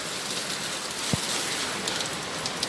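Evening rain falls steadily on a street, a dense even hiss of drops on surfaces with a brief low thump partway through and no voices.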